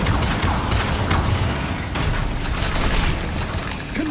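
Incendio fire spell cast in Hogwarts Legacy during combat, whooshing bursts of flame with booming impacts, loud and continuous, no talking.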